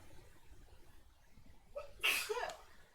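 A single sharp, close sneeze bursts out after a short intake of breath, set against quiet outdoor background noise.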